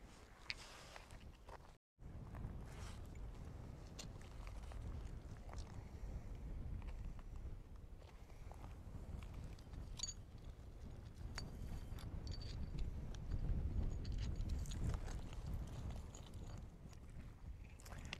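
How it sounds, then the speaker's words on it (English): Constant low wind rumble buffets the microphone outdoors at Wonderstone Mountain near Fallon, Nevada, steady and fairly loud, with a brief dropout near the start and no talking. "It's a little bit windy out here."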